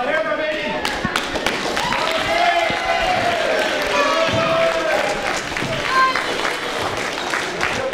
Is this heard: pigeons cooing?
no